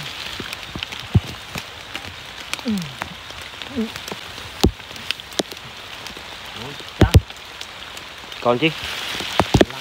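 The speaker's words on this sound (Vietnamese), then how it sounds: "Trời mưa này cả nhà." Steady rain patters on a surface during night fishing, close and continuous, with occasional louder drips and a brief spoken remark over it.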